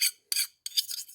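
A chainsaw file rasps across a 1084 steel knife blade in three quick, close strokes, each a dry, bright scrape separated by short silences, with no talking.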